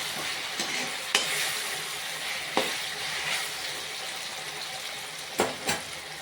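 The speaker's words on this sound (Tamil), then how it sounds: "இஞ்சி பூண்டு பேஸ்ட்டை இதிலே சேர்த்து வதக்குறேன்" Ginger garlic paste sautéing in a hot pan gives a bright, continuous close sizzle, with a few sharp clicks of a spoon against the pan.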